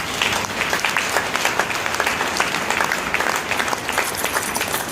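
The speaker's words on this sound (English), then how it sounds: "let's all see if we can get this joint applause for everyone who has showed up today for Professor Agwu" Dense, steady applause from a large audience at an inaugural lecture for Professor Agwu at the University of Nigeria, with many hands clapping continuously and evenly across the whole stretch.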